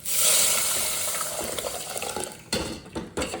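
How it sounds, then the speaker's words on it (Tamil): Mashed dal lentils poured into onions and chili frying in oil, a strong close hissing sizzle at first that settles, followed by a few clinks and scrapes of a utensil against the pan. "இப்போது நம்ம லைட்டாக கடைஞ்சி வச்சுருக்க இந்த பருப்பு சேர்த்துருவோம்"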